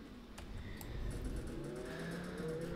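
Car driving in the Roblox game Jailbreak, a steady mid-pitched engine drone that slowly rises in pitch as it accelerates, loud and continuous for the whole stretch with no talking.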